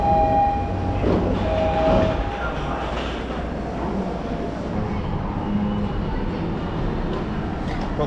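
Tokyo commuter train running, a loud, steady rumble and roar of the carriage in motion with faint high tones early on, heard from inside.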